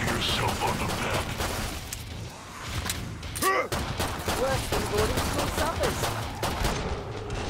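Rapid gunfire and mechanical weapon handling in the shooter game Killing Floor 2, dense overlapping shots with a few thuds, while a person talks over the action.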